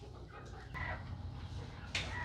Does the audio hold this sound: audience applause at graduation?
no